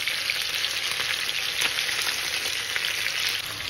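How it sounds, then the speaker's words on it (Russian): Chicken pieces fry in a hot pan for chakhokhbili, a steady, close, dense sizzle with crackling pops running evenly throughout, no voices. "Курочка жарится"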